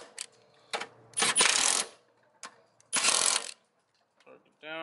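Bolts on a Subaru front strut bar are tightened with a torque tool, giving two close bursts of rapid ratcheting clicks with light metallic clinks and taps between them and no talking.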